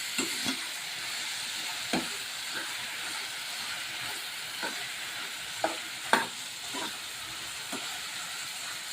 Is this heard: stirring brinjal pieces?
yes